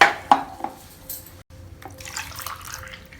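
Water poured into a vessel while making vendhaya kali, a few splashes and drips with a light clink of a pot, followed by a soft trickling pour.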